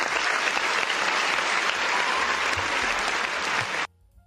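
A dense burst of crowd applause plays on cue, steady and fairly loud for nearly four seconds before cutting off abruptly into near silence.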